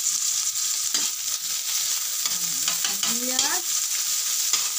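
Onion frying in a pan, a steady bright sizzle running throughout, with a few scraping stirs and a brief tonal squeak partway through, and no talking.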